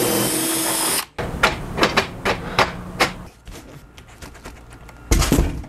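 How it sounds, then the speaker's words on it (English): A power drill whirs in a steady burst while drilling a hole for a generator noise-reduction shed, then stops, followed by a series of sharp knocks and clatters nearby before a short final burst of drilling. "I'm gonna have to re-drill that hole"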